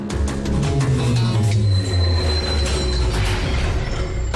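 A cartoon train's wheels squeal loudly on the rails, a long, close metallic screech that slides downward in pitch alongside rumbling, clattering carriage noise, with no one speaking.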